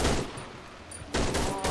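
A USP pistol fires in the horror game Cry of Fear: loud, sharp shots burst at the start and again near the end, each ringing out with a brief echo.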